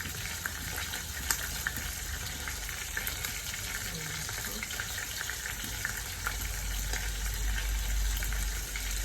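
Butter sizzles and bubbles in a pot of Jamaican-style cow head and beans, a steady close crackling hiss that grows slightly heavier toward the end.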